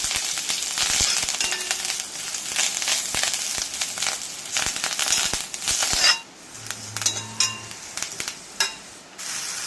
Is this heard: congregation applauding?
no